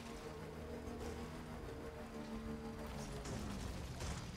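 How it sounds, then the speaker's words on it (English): Rain pours steadily in the video game Death Stranding, a continuous dense hiss of falling water with a low rumbling background, unbroken throughout and without speech. "Oh no, it's raining."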